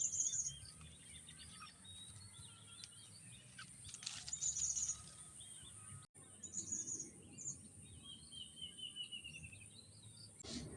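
A bird calls with faint, high chirps at intervals over a quiet outdoor background with low insect-like hiss, the calls soft and seemingly at some distance.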